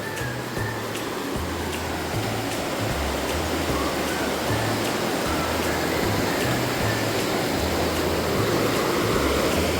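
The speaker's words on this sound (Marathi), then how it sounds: "नदीलाही मोठं पाणी आहे जरा." A swollen river in rural Konkan during monsoon rice planting rushes strongly, a loud, steady roar of turbulent water with no break, alone without voices.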